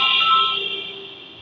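Telephone ringtone heard once as a loud, close electronic tone that fades out over about a second, with no talk.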